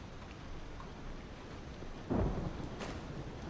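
A lightning strike in the horror video game Hello Neighbor 3 gives one sudden low thunder crack over a steady rain and storm background, followed by a brief fading rumble, with no voices.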